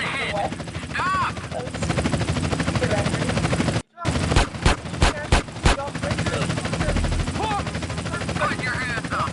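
Gunfire in GTA San Andreas, a quick string of sharp loud shots over the steady roar of a helicopter, with voices talking throughout.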